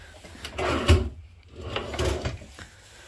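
Pull-out drawers in the kitchen island of a 2016 Alpine RV slide open and shut in two separate wooden strokes, each with a clear thump and rattle, close and fairly loud with a quiet pause between them.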